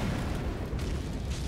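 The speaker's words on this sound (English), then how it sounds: "That is terrible, terrible range on that explosion." An Ash of War explosion in Elden Ring gives a dense, rumbling blast of noise that fills the whole moment, loud and steady without distinct breaks, with no talking.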